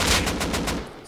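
A bare AK assault rifle with no attachments fires in the survival game Rust, a rapid burst of about six close, loud shots in quick rhythm lasting around a second.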